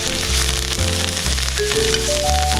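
Salmon pan-searing over a fire with rosemary and thyme while being basted with a spoon: a loud, continuous sizzle with crackling fat and rhythmic scraping or spooning, no voices.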